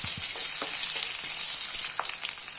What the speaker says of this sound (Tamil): இதில் நான் நறுக்கி வச்ச ஒரு பெரிய வெங்காயம், இதை நல்லா வதக்கிக்கலாம்.